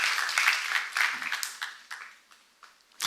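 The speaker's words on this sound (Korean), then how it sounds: "박수 하세요." A church congregation at a seminar claps in uneven bursts that rise and fade, with a voice talking between them and a final sharp burst at the end.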